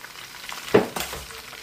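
Brim fish frying in a pan gives a soft, steady sizzle, broken by a sharp pop or clatter in the middle and a brief scrape after it. The sound is close and no one speaks.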